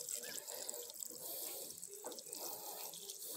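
Water gushes steadily from the valve of a hydraulic ram pump on a small rural property, a continuous rushing, splashing flow that runs without a break.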